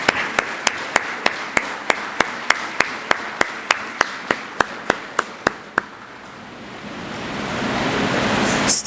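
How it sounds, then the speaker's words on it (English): A graduation ceremony crowd applauding students, heard first as a run of about twenty sharp, evenly spaced claps, then a swelling wash of broad applause that builds in loudness toward the end. "a lusty round of applause"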